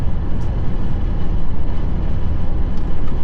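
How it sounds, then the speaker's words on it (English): Inside the cab of a moving 2025 GMC Sierra 2500 AT4X with an L8T engine and the windows closed, a loud, continuous roar of wind and road noise rushes past. "there's some wind noise coming here"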